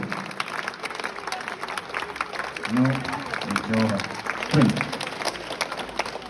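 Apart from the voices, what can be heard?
concert audience applause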